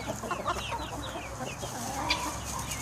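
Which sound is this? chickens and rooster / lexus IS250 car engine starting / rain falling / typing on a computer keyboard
chickens and rooster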